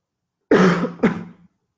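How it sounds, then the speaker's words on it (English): A single close cough with a rough, throaty onset, followed a moment later by a second shorter cough, then silence. "you have to excuse my cough"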